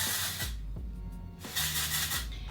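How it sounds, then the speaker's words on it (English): OUAI texture spray is spritzed onto hair in several short, close hissing bursts, each a quick airy spray separated by brief pauses, with no talking over it. "Gonna take now the OUAI texture spray and let's spritz a little bit on this to my hair."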